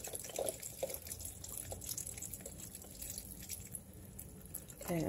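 Chicken broth poured from a 32-ounce box into a cooking pot, soft splashing and dripping liquid up close at a fairly low level, with no voices.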